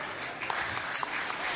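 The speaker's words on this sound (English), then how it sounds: "Thank you for applauding me." An audience at a plenary session applauds with steady clapping from many hands, fairly quiet and even across the moment, with no one speaking over it.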